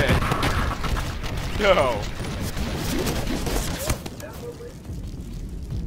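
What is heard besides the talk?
gunfire in the video game SMOD Outbreak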